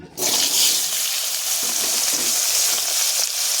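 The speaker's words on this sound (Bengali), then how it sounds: "এই তেলের ভিতরে আমি দিয়ে দেবো আলু।" Potato pieces drop into hot oil left from frying shol (snakehead) fish and burst into a loud, steady, close sizzle that holds unbroken to the end.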